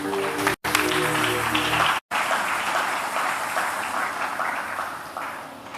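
A church congregation clapping together, dense sustained applause filling the room and fading slightly toward the end.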